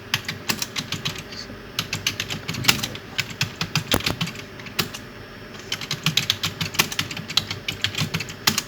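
Fast, steady clicking of keys on a computer keyboard while entering month names into a Microsoft Excel spreadsheet, close and continuous with brief pauses between words.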